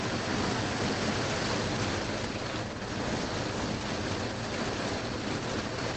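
Steady, dense rain hisses evenly throughout, a continuous wash of falling water with no breaks or voices.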